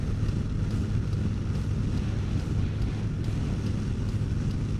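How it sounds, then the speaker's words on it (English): Wind buffeting outdoors on a walk to a grocery store, a steady, fairly loud roar that rushes continuously across the microphone with no let-up. "the wind is also being a bit unfriendly today"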